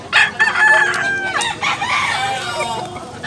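A Claret-breed gamecock rooster crows close by and loud, one drawn-out raspy call with a few clucks around it, heard alone with no talk.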